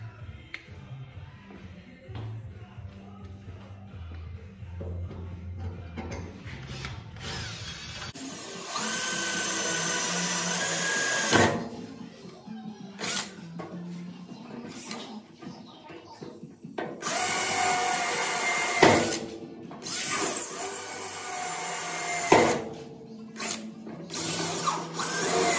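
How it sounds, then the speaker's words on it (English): A power drill bores holes through a utility ATV trailer's steel frame for carriage bolts, with several loud whining bursts separated by pauses and quieter handling noise, close by and without speech. "Drilled out the frame there for the carriage bolts."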